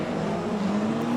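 Porsche 963 prototype race car at full throttle in Le Mans Ultimate at Fuji, a steady, loud engine drone with a sustained hum and no break.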